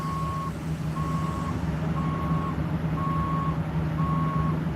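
A brand-new septic pump truck sounds its reversing alarm: five evenly spaced steady beeps, loud and close, over a continuous low diesel engine rumble.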